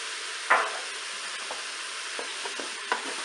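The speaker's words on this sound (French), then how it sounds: "Je vais mélanger." A spoon stirs mushrooms and golden onion for a mushroom velouté inside a Cookeo multicooker, with a steady faint sizzle and a few soft scraping knocks.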